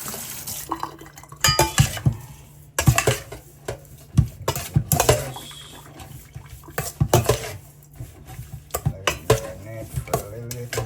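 Beef being rinsed under a running kitchen tap while preparing Jamaican stew beef, with a steady stream of water and intermittent clatter of the meat and a bowl or pot, close and fairly loud.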